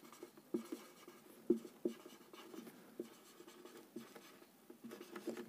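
A teacher writes out a definition on a board, producing a quiet run of soft scratching strokes and small taps in an irregular rhythm, close and unaccompanied by talk.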